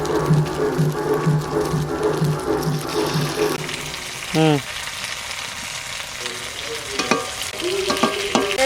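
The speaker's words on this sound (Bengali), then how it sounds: "জলটা দিয়ে দেবো।" Fish curry bubbles and sizzles in a pan before water is poured in, bringing a brief gurgling splash and then a softer hiss, with stirring clinks and some speech-like sounds around it.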